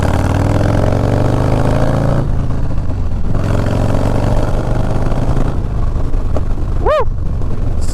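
A Harley-Davidson Low Rider S motorcycle accelerates hard, its loud engine roar climbing in pitch, dipping briefly at gear changes, then pulling again, with a short chirp near the end.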